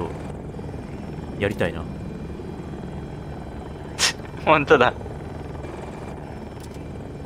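A helicopter in the Battlefield 2042 PC beta gives off a steady rotor drone that runs through the whole stretch. Brief bursts of voices break in over it now and then.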